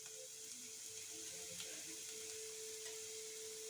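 Chopped garlic with a little green chilli fries in oil in a pan, giving a steady, fairly loud sizzle with a faint constant hum underneath and a few soft clinks of stirring, with no talking.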